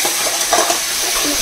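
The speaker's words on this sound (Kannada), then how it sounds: "ಇದು ಪೌಡರ್ ಚೆನ್ನಾಗಿ ಫ್ರೈ ಆಗಬೇಕು" Masala powder with a little added water frying and being stirred in a pan, a continuous close hiss and sizzle with light scraping.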